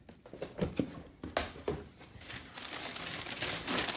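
Shrink-wrap plastic crinkles and tears off a large boxed Taschen Spider-Man book, close up, with irregular crackling bursts and rustling that builds into a steady crinkle.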